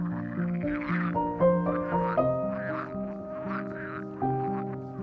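Frogs and toads croak by a spring pond dotted with water lilies, their throaty calls overlapping in uneven bursts, fairly loud and close with no voices.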